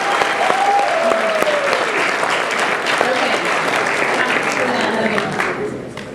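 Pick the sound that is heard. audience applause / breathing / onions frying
audience applause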